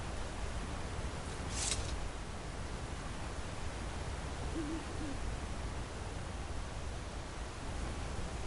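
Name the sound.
birds in Skyrim enhanced background sound mod, video game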